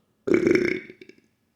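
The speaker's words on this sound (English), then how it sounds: "I feel a little more of the burp left." A single loud, close burp with a low guttural rumble, lasting about half a second and trailing off into a couple of small croaks, alone in silence.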